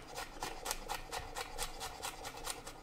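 A knife minces garlic cloves on a cutting board in quick, evenly spaced taps and scrapes, quiet and close, with no talking.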